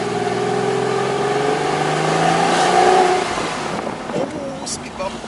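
An old car engine pulls and accelerates on a short drive, a steady rising drone with a higher whine, loud and close, then easing off as road and cabin noise take over.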